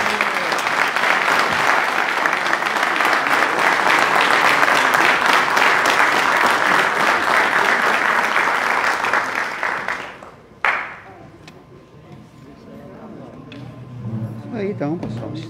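A Lions club assembly marking its 60th anniversary closes with a strong round of applause from those present, loud and sustained for about ten seconds before fading into scattered claps and faint room voices.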